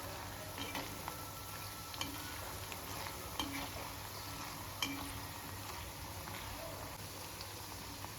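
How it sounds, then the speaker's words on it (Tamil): Low, steady frying in ghee as ingredients brown for Kerala-style ghee rice: a faint continuous sizzle with occasional soft stirring clicks, with no voices. "பாருங்க, நல்லா பொரிஞ்சு வரட்டும்"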